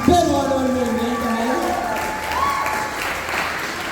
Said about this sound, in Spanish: un gran aplauso para Waldir